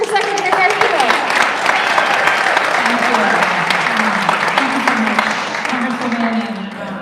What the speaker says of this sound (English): let's hear a round of applause for Secretary Armijo